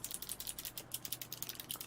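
Mechanical keyboard switches, Cherry and Kailh types in colors such as blue, navy, orange and jade, are pressed in a rapid, even run of sharp clicky clacks close up, with no talking.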